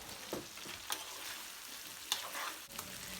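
Red pepper and chopped garlic fry in a pan with a steady, close sizzle, broken by a few sharp crackles and stirring scrapes, with no talk over it.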